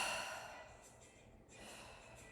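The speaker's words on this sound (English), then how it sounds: "breathe out through your throat" A heavy, throaty exhale during a yoga breathing exercise, a long airy breath out that fades and swells again softly over a couple of seconds, with no talking.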